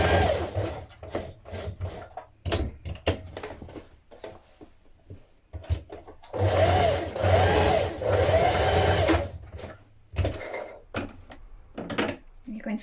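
A sewing machine stitches darts into coat fabric for a Butterick 6244 long coat, running in quick rattling bursts with short stops between them and one longer steady run in the middle.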